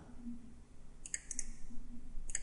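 A computer mouse gives a few crisp, faint clicks, a pair close together and then one more, in an otherwise quiet room with a low hum.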